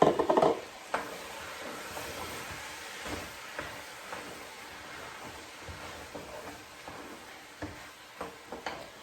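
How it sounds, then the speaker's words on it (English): Drained, rinsed dark red kidney beans tumble into a cooking pot for a tater tot casserole, a brief soft rush at the start followed by faint scattered clicks and light knocks in a quiet kitchen. "Into the pot they go."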